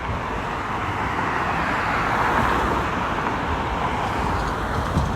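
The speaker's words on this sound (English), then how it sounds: "There's someone testing out a car" A car is test driven along a neighbourhood street in Toronto's Junction area near a dealership, its engine and tyre noise a steady close road roar that swells slightly midway.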